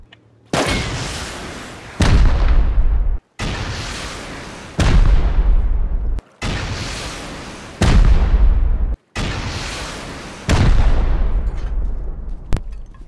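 Explosions from the video game Rust go off one after another, five or six loud booming blasts with long decaying tails, each separated by brief gaps.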